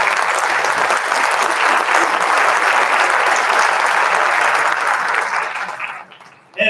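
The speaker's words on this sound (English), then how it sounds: "Let's give it a applause." Audience applause fills a school band concert hall at Cheltenham High School's winter concert, a dense, steady wash of clapping that holds loud for about six seconds, then thins and fades out.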